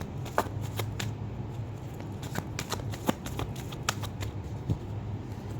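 Tarot cards being shuffled by hand, a soft continuous papery riffle with several sharper snaps and flicks scattered through, close and fairly quiet with no talking.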